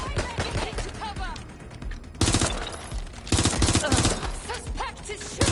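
Rapid bursts of automatic gunfire crackle in the video game Watch Dogs Legion, loud and dense, with heavier volleys kicking in around the middle and near the end of a combat exchange.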